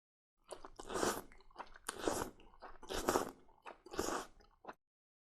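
Ramyeon noodles being eaten up close, with four distinct loud crunchy chewing bursts in a steady rhythm, then quiet.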